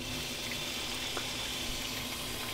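Tap water flushes steadily through a heater core hose on a 1984–2001 Jeep Cherokee XJ during a cooling system flush, a continuous faint rushing and trickling with no voices.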